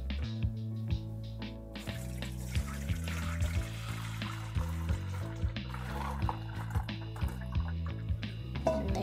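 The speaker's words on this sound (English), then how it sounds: "we're gonna strain up this milk mixture" A milk mixture for homemade vanilla ice cream is poured through a strainer, giving a soft continuous trickle with small drips, faint under background music.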